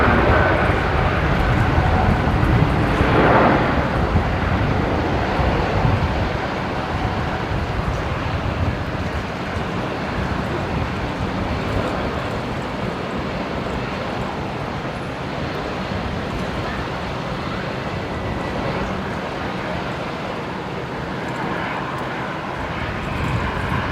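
A Jetstar airliner arriving at Brisbane Airport from Launceston, Tasmania, heard as a steady broadband jet roar that is loudest early on and eases to a sustained distant rumble, with no talk.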